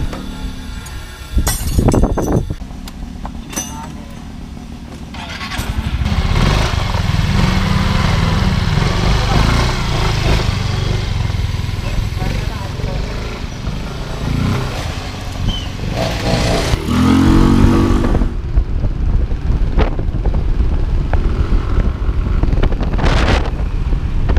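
A Yamaha Mio i 125S scooter engine, recently repaired for loss of compression, runs steadily and revs up at moments, with wind buffeting and brief clinks, as if riding outdoors.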